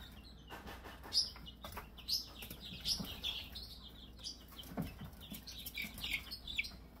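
Two-week-old chicks peep and chirp in a brooder, bright high calls scattered irregularly in quick bursts, fairly close, with light rustling and scratching underneath and no talking.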